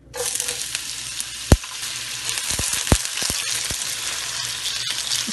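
Onion frying in hot oil in a pan, a steady close sizzle with a few sharp clicks and knocks from the utensil, no voices.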